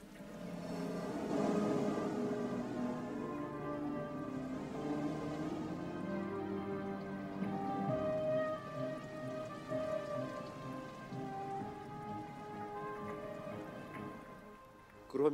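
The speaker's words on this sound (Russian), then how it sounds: "и на землю хлынули потоки дождя" Heavy rain pours down steadily, a dense continuous hiss of drops that swells and eases slightly over the length of the clip, with no voices.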